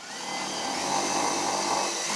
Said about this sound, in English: This is when you can't push hard enough on the drill.